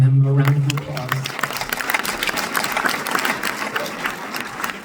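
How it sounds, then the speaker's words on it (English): Film festival audience applauding after a Q&A with a film's actor and composer, a dense steady patter of many hands following a brief tonal sound at the start. "If you want to join me in giving them a round of applause."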